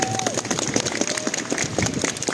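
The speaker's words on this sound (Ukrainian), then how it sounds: "Якщо можна, гучніші овації." Crowd applause and cheering at an outdoor Christmas celebration in Lviv, a steady dense clapping wash from a large gathering that holds throughout, with a faint tone briefly audible over it.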